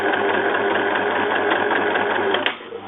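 Domestic sewing machine running steadily while stitching a zip into a cushion, a fast even mechanical whirr with rapid needle ticking, close and continuous before briefly slowing at the end.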